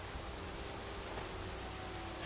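Steady rainfall on a night in the game Skyrim, a faint, even patter and hiss of drops spread evenly throughout with no other sounds.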